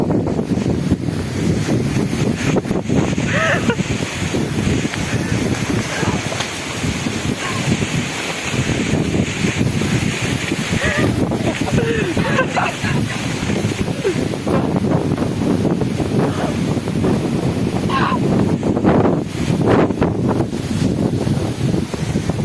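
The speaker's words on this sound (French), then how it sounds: "Il y a beaucoup de vent." Strong wind buffets the microphone in a constant heavy roar, with surf-like rushing and occasional faint higher sounds beneath it.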